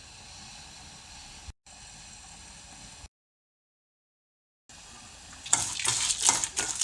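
Pepper, mustard seeds and fenugreek roasting in a little oil, a quiet background hiss with a silent gap, then a louder burst of crackling and spoon scraping near the end.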